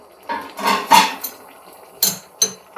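Metal clinks and clatters as a lid is set on a pot of brinjal curry cooked with curd: a few sharp knocks, one ringing clink, then two more short taps, close and loud without talk.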